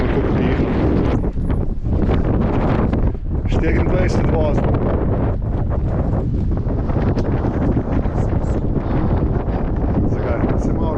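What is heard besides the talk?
strong wind blowing at the shore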